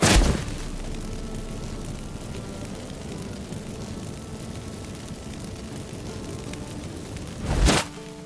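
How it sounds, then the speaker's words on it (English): Magic fireworks in The Witcher 3 video game, a loud burst at the start, a long noisy crackling rumble, then a second sharp boom near the end. "Get ready for some magic fireworks."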